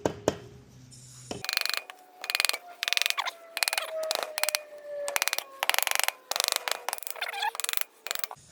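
A wrench ratchets in quick repeated bursts of clicking as the cylinder comes off a 2014 KTM 250 SX-F engine on a bench, the clicks near and crisp with brief pauses between strokes.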